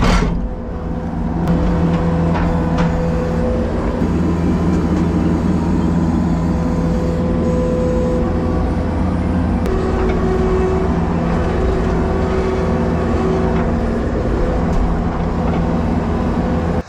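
A skid loader's engine runs in a yard during unloading, a loud, close, steady drone with a humming tone and occasional faint mechanical clanks, no talking.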